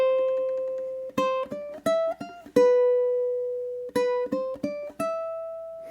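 Ukulele picking a simple melody of plucked quarter notes, two short phrases of four bright notes each with ringing decay between them, close and clear, played solo.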